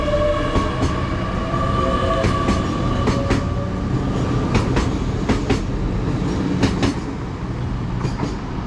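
Diesel passenger train, the 14:00 service to London Paddington, passing at a station platform: a steady rumbling roar with repeated wheel clicks and clacks over about nine seconds, close by and loud.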